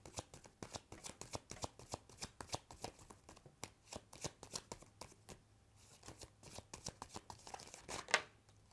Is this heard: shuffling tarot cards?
yes